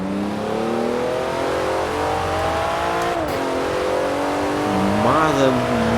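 Porsche 911 Turbo S engine accelerating on a sunny English bridge, a steady rising roar with climbing pitch, a brief shift dip midway and another surge near the end, loud and close throughout.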